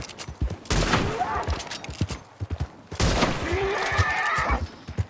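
Rifle shots in the Red Dead Online video game, two loud bursts of gunfire mixed with horse whinnies and game noise, with a voice speaking briefly.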